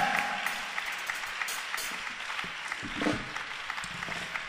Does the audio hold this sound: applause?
yes